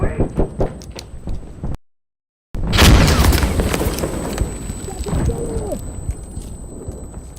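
A thrown grenade detonates in the video game Insurgency Sandstorm, a loud booming blast after a brief silence, preceded by sharp clattering shots and followed by rumbling debris and a thin high ringing tone.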